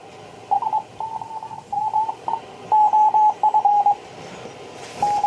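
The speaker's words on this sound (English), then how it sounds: "That extra filtering makes the CW sound great on the receiver." Morse code on a Kitchin high-performance regenerative receiver with extra filtering gives a clean, fairly loud tone. It keys in crisp dots and dashes over a quieter, smoother noise floor, with no voices.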